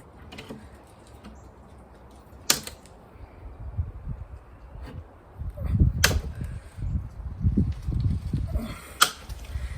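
Zip ties on a car door panel are snipped off with cutters: a few sharp, isolated clicks spread across the clip amid soft handling and rustling of plastic.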